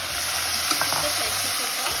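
Mutton sizzles and fries steadily in a hot pressure cooker with cumin, a loud continuous crackling hiss with faint stirring scrapes, close up.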